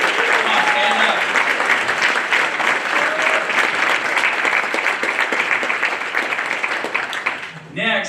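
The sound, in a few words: audience applause at awards ceremony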